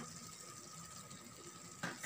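Tomato sauce with tuna being stirred in a pan, a quiet steady sizzle with faint scraping of the spoon, ending in a couple of louder clinks against the pan.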